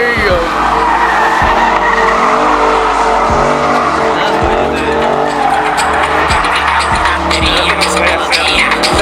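A Dodge skids hard at a car meet, its tires squealing continuously under a loud roaring engine with revving surges, close and loud, with crowd noise around it.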